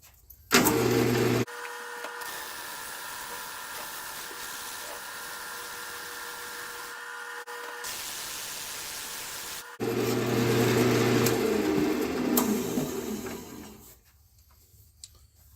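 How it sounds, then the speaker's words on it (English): A flat sandpaper board is held against a spinning segmented wood turning on a lathe, giving a steady hiss and rasp over the motor hum, with louder scraping bursts near the start and again toward the end before the sound drops away. "use a board that has some sandpaper on it, a flat board, and I'm going to hold it across here and get this surface sanded"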